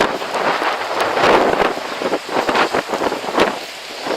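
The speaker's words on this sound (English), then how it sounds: "it's getting a bit windy, but the verticals are holding up nicely" Strong wind buffets a microphone outdoors on the Isle of Arran in Scotland during a radio contest, a loud, broad, gusty rush that swells and dips throughout with no voices.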